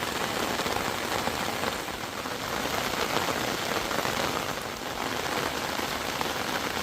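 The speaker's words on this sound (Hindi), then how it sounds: "इतनी मोटी बारिश लग चुकी है" Heavy rain pours down steadily, a dense, constant hiss of drops hitting surfaces close by, with no pauses and no voices.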